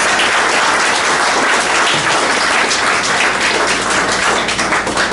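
A congregation in a church hall bursts into loud, dense applause, many hands clapping close and continuously for several seconds with no voices on top.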